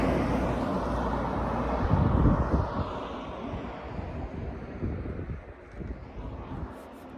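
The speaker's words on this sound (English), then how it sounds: "It gets a little noisy when the vehicles go by." Vehicles pass by on an outdoor road near the River Shannon, a broad rumbling swell peaking early then easing off, mixed with steady wind buffeting the microphone.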